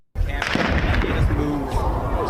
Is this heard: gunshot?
yes